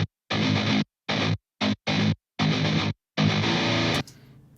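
Distorted electric guitar chugs in short bursts, each chopped off by abrupt dead silence between them, ending with a faint low tail.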